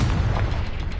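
A Confringo fire spell blasts in Hogwarts Legacy, a loud, rumbling explosion that roars continuously for about a second without letting up.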